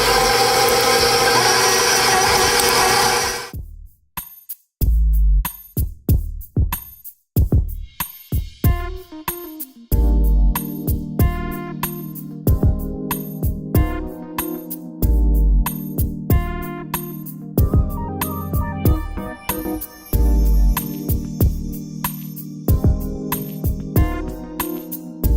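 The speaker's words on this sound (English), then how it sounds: "on a low speed, cream this butter until it is nice and soft" An electric mixer creams butter for Easter cupcakes at low speed, starting with a steady whir and then breaking into irregular bursts of motor whine and thumping as the beaters churn, loud and close.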